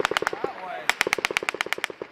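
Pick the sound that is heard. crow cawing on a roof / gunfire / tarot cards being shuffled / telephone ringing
gunfire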